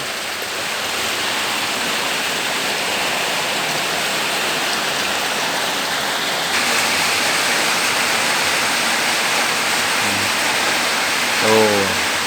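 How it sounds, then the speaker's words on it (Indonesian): Heavy rain pours down outdoors at an eel farm in Indonesia, a loud, dense, continuous roar of water that grows stronger partway through, with a brief faint voice near the end. "semakin deras hujannya."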